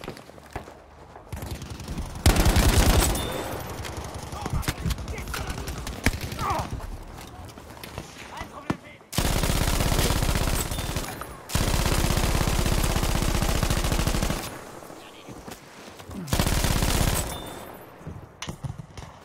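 Rapid assault rifle bursts and other gunfire crackle in the video game Battlefield 5, in loud repeated volleys amid battle noise, with someone talking over parts of it.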